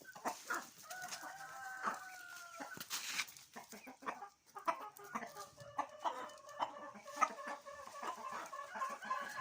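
Light Sussex hens at a heritage breeding setup in Rawalpindi cluck in quick irregular bursts, close and clear, with a rooster crowing briefly among them and other fowl chattering in the background.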